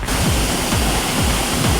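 Ghogata waterfall at the foot of Mandagadi hill roars loud and steady, water falling from a height in an unbroken wash of noise.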